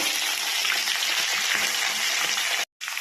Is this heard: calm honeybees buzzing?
no